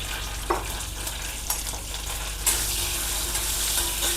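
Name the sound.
cumin seeds sizzling in homemade butter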